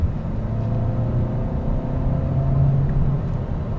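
A 2020 Hyundai Sonata's 2.5-liter engine pulls under throttle, giving a steady, close low rumble and whirring drone that swells slightly as it accelerates, with no voices.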